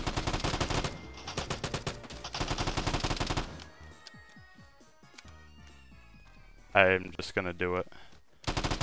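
Rapid bursts of gunfire from the online shooter game Vigor, dense and loud at the start, then quieter shots, with a sharp loud burst near the end and people talking between.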